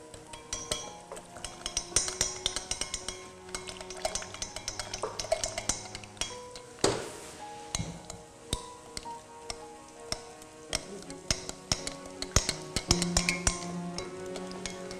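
Wooden spoon stirring vegetarian risotto in a pot, with repeated scraping and clinking against the metal through the whole stretch and background music playing underneath.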